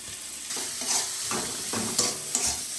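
Bay leaf, five-spice, chopped tomato, salt, turmeric and chili powder sizzle and get stirred in a pan for a cauliflower and potato curry, a steady frying hiss broken by a few scraping strokes.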